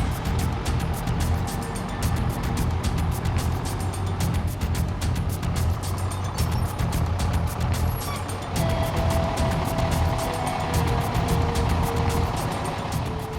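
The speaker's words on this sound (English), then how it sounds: "Okay, so we've pulled the engine up to our hydrant." A fire engine idles after pulling up to a hydrant, giving a steady, close diesel rumble with a faint, intermittent beeping over it throughout.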